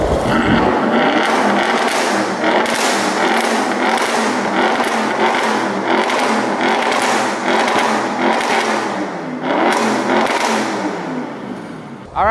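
Audi RS6 C7 fitted with an iPE exhaust system, revving in dynamic mode, giving a loud, sustained engine roar with repeated rising and falling rev pulses close by.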